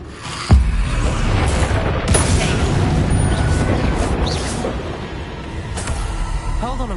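A Bombarda blasting spell in Hogwarts Legacy goes off with a sudden heavy boom, followed by a rumbling, crackling wash of debris and noise that stays loud for several seconds before easing.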